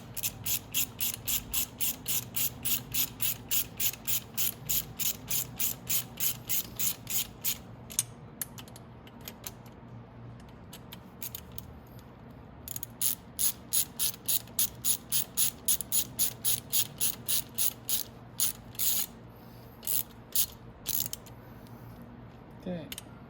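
Rapid ratchet clicking in repeated bursts while cylinder-head bolts are tightened on a Venom X22r 250cc engine; close and crisp, pausing near the middle before another run of strokes, then slower single clicks.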